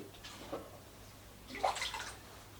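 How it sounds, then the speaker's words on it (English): Rainwater is poured into a watering bucket in two short, faint splashing bursts, quiet and close, with no voices. "This is just rainwater to the watering bucket."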